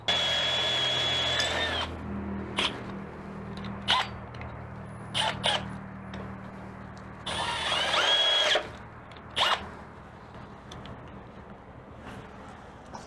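A 3/8 drill bit chews out threads near a rear axle on a Yamahonda build, the power drill whirring loudly in two long runs with brief bursts and mechanical clicks between them.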